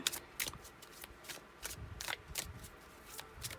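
Tarot cards shuffled by hand during a reading, a run of soft papery riffles and slaps in irregular bursts, close and fairly quiet, with no talking.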